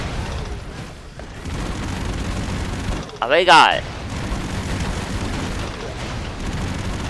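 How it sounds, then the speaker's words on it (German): A loud explosion bursts out mid-clip in the run-and-gun video game Broforce, a single booming blast over steady game sound while someone talks in German before and after. "Oh mein Gott, hier explodiert ja eigentlich alles."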